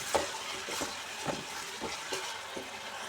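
Korramenu fish curry with curry leaves stirred in a pan, a spoon scraping in steady strokes about every half second over a low sizzle, close and fairly quiet.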